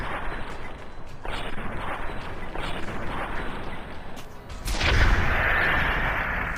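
Gunfire in Fallout New Vegas landing a headshot, a dense stretch of in-game shooting and booming effects with a heavier burst partway through, loud and continuous with no talk.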